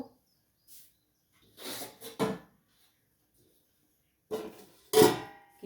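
A lid is set on a cooking pot of rohu fish curry with bori, producing two separate bursts of close metallic clatter and rattling with near silence between them.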